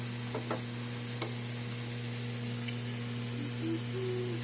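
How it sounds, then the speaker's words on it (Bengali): A paratha fries in oil in a pan with a quiet, even sizzle, a low steady hum underneath and a few faint ticks. "ভাজা হচ্ছে আমাদের পরোটা"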